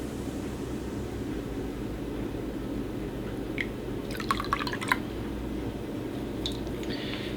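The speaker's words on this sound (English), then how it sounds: "Now with the plant milk, I'm adding in some apple cider vinegar." Apple cider vinegar poured into plant milk for a vegan Nashville hot chicken batter: a soft, brief trickle and a few drips over low background hiss, with no talking.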